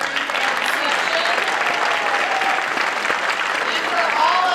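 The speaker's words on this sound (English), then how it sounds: "how about a round of applause for Kai Bookwalter and that delicious Gordon Blade catering for our reception" Steady audience applause fills an awards ceremony reception, dense and sustained throughout, with faint voices mixed in beneath the clapping.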